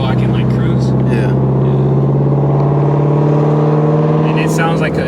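A Shelby GT350R running on E85 cruises with a loud, steady exhaust drone from inside the car, a constant deep hum with people talking over it.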